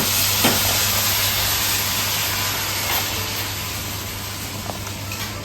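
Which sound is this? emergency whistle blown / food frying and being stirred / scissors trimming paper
food frying and being stirred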